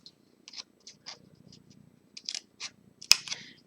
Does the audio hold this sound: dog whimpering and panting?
no